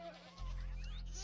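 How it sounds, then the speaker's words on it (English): A goat in the Minecraft video game gives a single drawn-out bleat that starts abruptly and holds with a buzzy, nasal tone, fairly loud and alone. "There are goats in Minecraft?"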